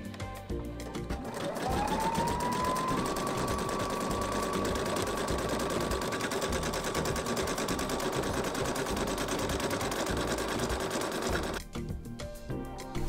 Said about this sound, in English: So I'm just gonna let it stitch out and keep an eye on it.